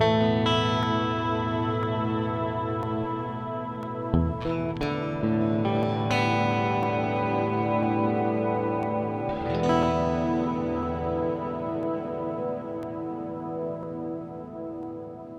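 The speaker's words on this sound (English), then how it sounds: "what I'll hear is the delay after it's gone through the reverb" Electric guitar chords ring out through a VFE Pedals Klein Bottle stereo delay into reverb, each strum trailing into washing echoes that blur together, steady and moderately loud with no voices.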